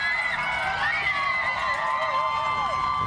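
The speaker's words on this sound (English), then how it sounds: "It's all noisy. Again, crowds have now come out in good numbers." Marathon crowd lining the Chicago course, a steady dense roar of cheering, whistles and shouts from many spectators, loud and continuous throughout with no break.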